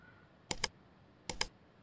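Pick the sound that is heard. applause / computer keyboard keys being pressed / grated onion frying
computer keyboard keys being pressed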